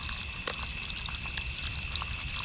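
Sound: pouring water into a cooking pot

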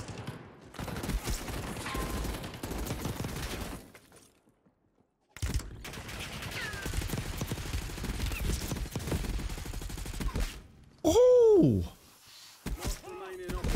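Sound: KSV gun firing in video game Call of Duty Warzone

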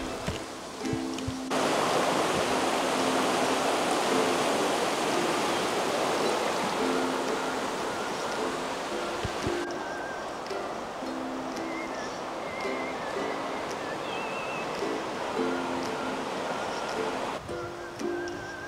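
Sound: river flowing past campsite at Bled, Slovenia

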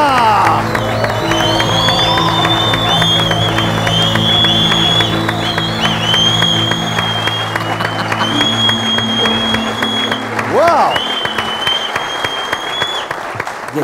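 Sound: audience applauding and cheering a singer's entrance

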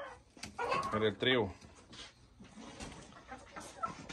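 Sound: McRae hen clucking on a farm

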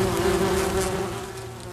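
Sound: wasps buzzing around a nest in a garden shed

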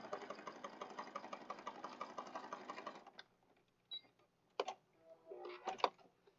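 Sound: sewing machine sewing down a pocket

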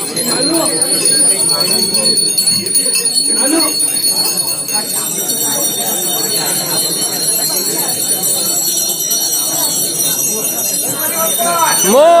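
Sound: ringing bell

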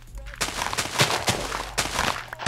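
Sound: Creeper exploding in the video game Minecraft

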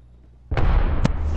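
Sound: grenade explosions in video game Apex Legends

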